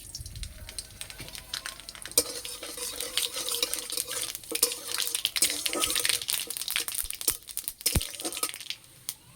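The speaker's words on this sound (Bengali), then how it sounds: "এই তেলে দেবো গোটা সরষা," Whole mustard seeds and dried red chillies fry in hot oil in a village kitchen, giving a steady crackling sizzle with scattered sharp pops and some stirring scrapes, fairly quiet and close with no voices.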